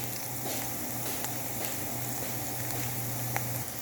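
Onions frying in a pan until golden, a close, steady sizzle and crackle holding at an even level throughout, with no talking.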